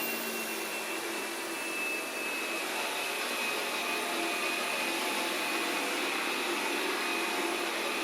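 A robot vacuum in normal mode drones at about 55 decibels with a constant airy whir and faint high whine, steady and even from start to finish.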